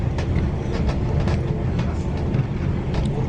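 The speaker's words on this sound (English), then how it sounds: "There's a train in there, look, on the upper level" A train rumbles past on the upper level at Willesden depot, a steady loud roll of wheels on rails filling the whole stretch with no talk over it.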